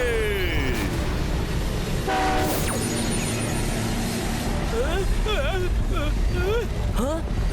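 Animated train rumbling steadily along the tracks with a brief horn-like blast, under busy cartoon music and effects throughout, with continuous loud motion noise.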